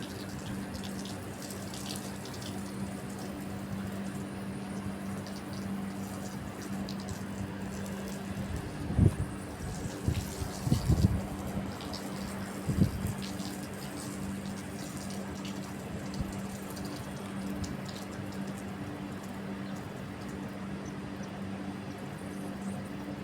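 Water runs from a tap in a thin, steady stream for the whole stretch, with a few brief louder splashes and knocks midway and no one speaking.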